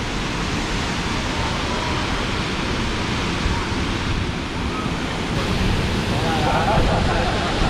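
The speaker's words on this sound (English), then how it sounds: "This is a pretty impressive waterfall." A large waterfall near Brevard, North Carolina, roaring as a loud, dense, unbroken wash of falling water heard close up, steady throughout with wind buffeting mixed in.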